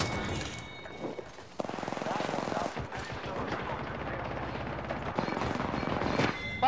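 Gunfire in the battle-royale game Apex Legends during a ranked match: rapid bursts of automatic weapon shots crackle in quick succession, fairly loud, with players talking excitedly over the fight.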